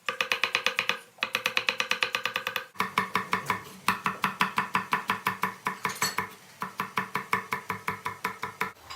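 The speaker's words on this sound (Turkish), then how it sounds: "Soğanlarımızı sote doğrayacağız" Steady rapid knife chopping of onions on a cutting board, quick even strikes continuing throughout with a couple of brief pauses, close and clear.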